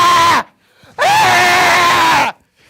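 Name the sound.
person imitating a woman screaming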